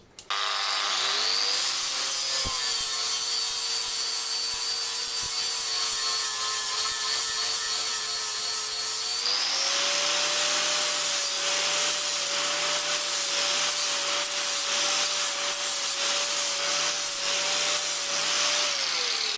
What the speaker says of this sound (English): Now we can try some sanding with flap disc.